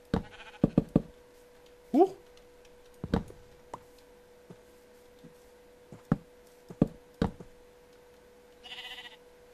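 A sheep in the Minecraft video game bleats among scattered sharp game clicks and knocks, with someone talking at times in between.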